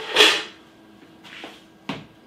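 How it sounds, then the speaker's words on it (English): Doors of a Philips Perfect Draft beer machine swing open with a sharp plastic click and clatter, followed by two softer knocks and a final snap, close and alone. "Open your doors."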